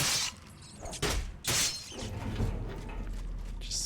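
Weapon blows smashing rats in the fantasy role-playing game The Elder Scrolls IV: Oblivion, a few sharp crunching hits with clattering, mechanical impact sounds, close and loud, with no talk.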